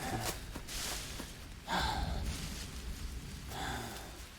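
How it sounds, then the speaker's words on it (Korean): Rain falls in the jungle survival game Green Hell, a soft, steady patter with a few louder gusts of downpour, faint and distant, with no voices. "아침 또 비가 내리네요"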